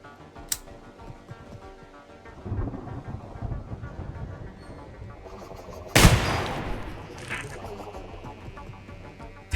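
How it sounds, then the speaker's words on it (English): Gunfire in a video game: scattered shots under a constant wind-like rumble, with a sharp, loud blast near the middle and a few fainter cracks around it. "Fucking shitty gun."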